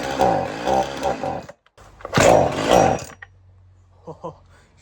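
A project car's engine, freshly fitted with a cleaned carburetor, catches and roars in two loud, rough bursts close by, then drops to a low steady idle with faint knocks.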